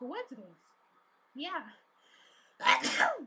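A sharp, close sneeze bursts out after brief bits of speech from a couple of people.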